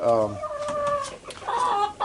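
Easter egger chickens (Ameraucanas) in a backyard spring garden coop cluck and squawk continuously, close and fairly loud, with a few rising calls toward the end.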